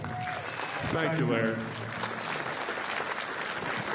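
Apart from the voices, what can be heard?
applause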